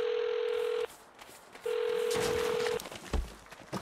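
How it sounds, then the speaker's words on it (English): A burner phone rings in the video game Saints Row: two long, steady electronic ring tones separated by a short pause, followed by a soft click and low thump as it is picked up, with no talking. "pick up the burner phone"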